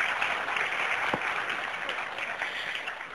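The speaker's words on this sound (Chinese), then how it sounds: "在此我们以掌声欢迎杨振宁教授以及本场主持人黄锐院士到台上来。" Lecture-hall audience applauding to welcome Nobel physicist Yang Chen-Ning to the stage, a dense, steady patter of many hands clapping together at moderate volume throughout.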